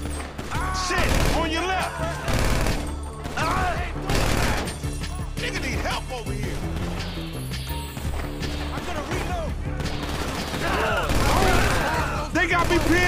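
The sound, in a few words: gunfire in a gunfight in video game GTA V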